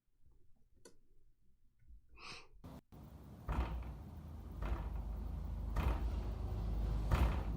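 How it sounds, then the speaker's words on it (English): Repeated dull thuds as a man bangs his head against a door, four or five heavy knocks spaced about a second apart over a rumbling, noisy background, after a few faint ticks and a sharp clack at the start. "He's hitting his head against the door."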